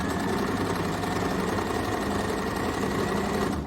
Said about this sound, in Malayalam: ഇതിപ്പോൾ ഒരു സാമ്പിൾ തുണിയിലാണ് തയ്ക്കുന്നത്